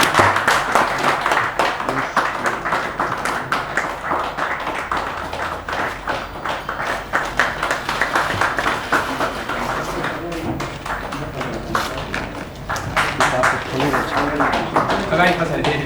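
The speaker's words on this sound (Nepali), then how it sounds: "हामी ताली बजाउनेछौँ" Audience applause at a book launch for Manoj Bishokarma's book 'Dark Side', with sustained clapping and scattered taps running through the whole stretch beneath crowd chatter, dipping briefly before building again.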